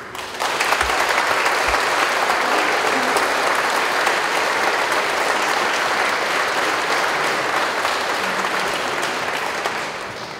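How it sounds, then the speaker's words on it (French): A crowd at a first communion celebration breaks into sustained, dense applause that holds steady for several seconds before tapering off slightly at the end. "On peut l'applaudir."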